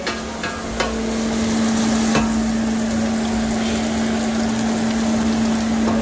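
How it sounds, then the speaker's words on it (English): Chopped garlic hits onions already softening in a pan for homemade bolognese sauce, giving a steady, even sizzle with a faint constant hum beneath it and no talking. "the onions have been cooking here for about just a minute, and now I'm adding the garlic"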